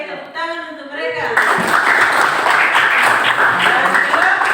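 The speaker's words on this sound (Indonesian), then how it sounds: "Oke, tepuk tangan untuk mereka." A voice speaks briefly, then a room of participants at a teachers' coaching workshop bursts into steady, close applause that carries on to the end.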